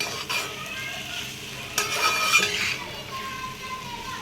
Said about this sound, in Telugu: ఇవన్నీ కూడా బాగా కలిపేసుకుందాం